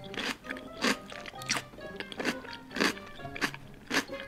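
A woman bites and chews crunchy cucumber up close, producing a rhythmic series of wet, crisp crunches roughly every half second, with no talking.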